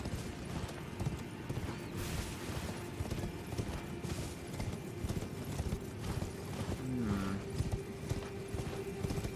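A horse is ridden in Elden Ring, its hooves clip-clopping in a quick, continuous rhythm over a dense game soundscape, with a brief whinny-like tone partway through.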